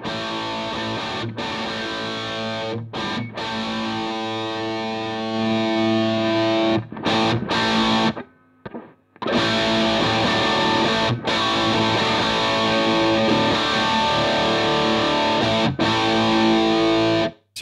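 Distorted electric guitar is played through a Two Notes Captor X set to a 2x12 Vox-style Voice 30 cabinet simulation. It gives loud, sustained chords and riffs with a few short pauses, including one brief dropout near the middle, and no talking.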